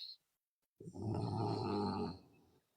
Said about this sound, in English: And someone is snoring.